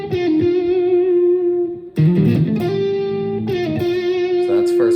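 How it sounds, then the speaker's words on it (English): Sustained, heavily distorted electric guitar lines played loud and continuously, with a brief dip near the two-second mark before the notes surge back. "you need heavy distortion"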